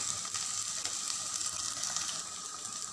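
Steady close sizzle of shallots, garlic, ginger and green chili frying in oil as the base for a Kottayam-style masala fish curry, a dense continuous crackle with no pauses and no voices.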